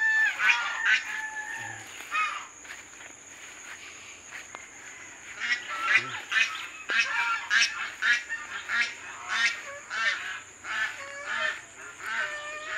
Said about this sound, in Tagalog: Lapitan natin gansa.